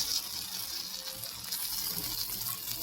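Tap water runs steadily into a kitchen sink as cut okra is washed, a continuous close hiss and splash with no pauses and no one talking.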